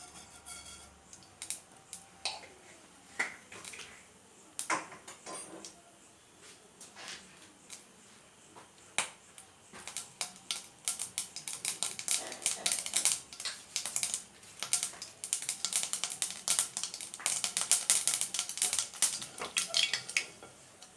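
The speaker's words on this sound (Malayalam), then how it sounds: "കടുക് പൊട്ടുമ്പോൾ നമുക്ക്" Mustard seeds crackle and pop in about two tablespoons of hot coconut oil while Kerala pineapple pickle is made, scattered sharp snaps growing denser and louder in the second half, close up, with no talk.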